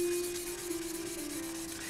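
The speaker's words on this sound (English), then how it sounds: "keep the sandpaper very wet, because that flows away all the paint that you're sanding off." Steady wet rubbing and scraping of sandpaper on a painted carbon fiber motorcycle windshield, continuous and close, with a faint hum in the background.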